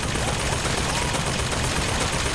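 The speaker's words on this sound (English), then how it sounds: "I think I found the turrets." Automated turrets fire in the video game Bioshock Infinite, a dense, continuous burst of loud rapid gunfire with no clear speech.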